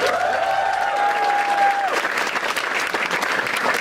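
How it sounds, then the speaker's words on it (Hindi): Studio podcast audience breaks into applause, a dense clatter of many hands that starts right away and carries on steadily, briefly overlaid by a sustained tone at the start. "ताली बजाओ सब लोग"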